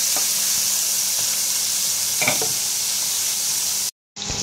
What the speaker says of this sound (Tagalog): Mag-i-start na tayong magigisa. So, ilalagay natin ang sibuyas.